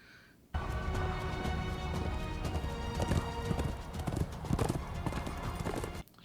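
Horse hooves clip-clop steadily and loudly in an animated superhero series, with a whinny mixed into a dense, busy soundtrack that starts abruptly and cuts off near the end.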